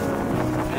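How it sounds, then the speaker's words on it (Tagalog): Strong wind roars steadily across the microphone aboard the ship BRP Batan at sea off Tawi-Tawi, a loud, unbroken rush with a low boat rumble beneath it. "Masyadong malakas ang hangin kaya hindi nyo masyado marinig ang boses ko."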